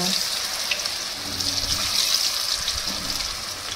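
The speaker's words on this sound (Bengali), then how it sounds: "আমি ওইগুলো ছেড়ে দিচ্ছি ডুবো তেলে একদম হাই ফ্লেমে।" Cauliflower pakoras dropped one by one into deep oil over a high flame, giving a steady, close hiss and crackle of frying with faint low clatter underneath.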